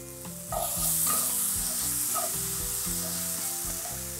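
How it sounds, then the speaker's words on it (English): Apples for apple pie oatmeal sizzle steadily in a hot pan while being stirred, with a continuous loud frying hiss and repeated scraping strokes throughout, no talking. "It takes literally about 3-4 minutes to cook the apples."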